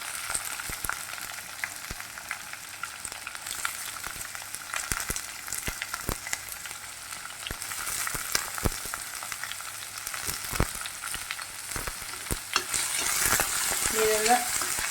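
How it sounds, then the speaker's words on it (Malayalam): Shallots sauté over high flame with rock salt as a base for a tuna fish curry, giving a steady close sizzle broken by frequent scraping stirs of a spoon against the pan, growing louder near the end. "ഇതൊന്ന് നന്നായി വഴറ്റിയെടുക്കുക."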